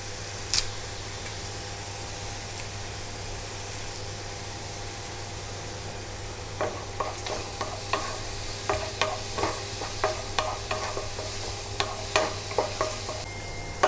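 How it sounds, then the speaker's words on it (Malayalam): Beef curry cooking in a pan as curry leaves go in: a steady low sizzle throughout, then from midway a run of sharp spoon-scraping stirs in an uneven rhythm, close and moderately loud. "ഇതിലേക്ക് നമുക്കിനി കറിവേപ്പില ഇട്ട് കൊടുക്കാം."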